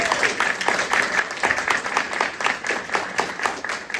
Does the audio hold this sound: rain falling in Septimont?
no